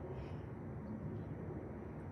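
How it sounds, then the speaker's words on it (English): A fixed-wing airplane passes high overhead, a steady low broadband rumble that holds evenly throughout, faint and distant. "I'm hearing a plane go over"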